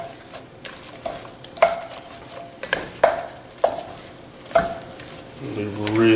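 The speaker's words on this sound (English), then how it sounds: "So I can stir these around just for a minute" Mushrooms stirred in beef fat in a pan over medium heat: a spoon knocks and scrapes against the pan in repeated irregular clanks, with a soft sizzle underneath and a voice briefly near the end.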